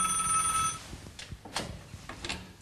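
A landline telephone in a bomb shelter bunker built in the early 1970s rings briefly at the start, then gives way to soft handling clicks and knocks.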